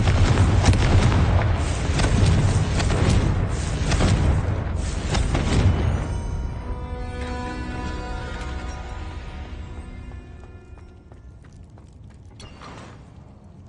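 Confringo fire-spell explosions in the video game Hogwarts Legacy: a rapid run of booming blasts, loud and close, that fade into a ringing, lingering tail as the area quiets.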